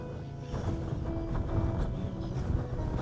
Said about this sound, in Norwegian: For nå blæs det.